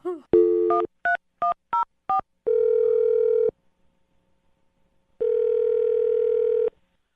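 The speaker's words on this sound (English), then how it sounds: "I'm going to dial his phone number right now" A telephone line gives a rapid series of six short dialing tones, then a steady tone for about a second, a silent pause, and the same steady tone again, clean and close with no voices.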